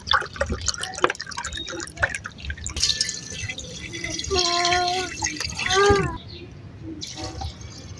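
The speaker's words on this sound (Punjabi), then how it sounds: "ਪਾਣੀ ਪਾ ਕੇ ਉੱਪਰ ਰੱਖ ਦਿੰਦੇ" Water is poured into a cooking pot set on the stove to make a curry in a rural Punjabi home kitchen, with splashing and dripping close by under a person's voice.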